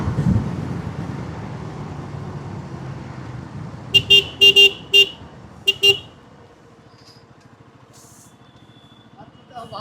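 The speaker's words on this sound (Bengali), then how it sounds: "গাড়ির আওয়াজটাও কেমন আসছে সেটাও বলবেন" A motorcycle rides through road traffic, its engine rumbling low and steady while a cluster of short car horn toots sound close by midway, then the engine settles into a quieter idle-like drone.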